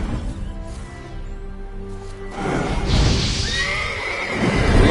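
A horse in The Witcher video game gives a loud, drawn-out neigh and whinny with some hoof clatter and stamping, up close and growing busier toward the end.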